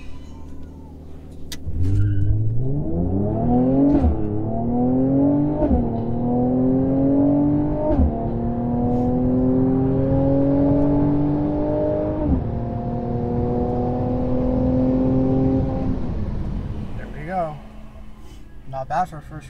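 A Mercedes-AMG C43 racing on a track, its engine revving hard through rising gear sweeps with sharp shift breaks, loud and close for most of the run before easing off near the end.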